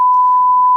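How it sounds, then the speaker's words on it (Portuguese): A single loud, steady censor beep tone, a pure sustained pitch lasting under a second, played over a swear word in a news talk show and cutting off abruptly at the end. "Então vai lá, toca o bip aí."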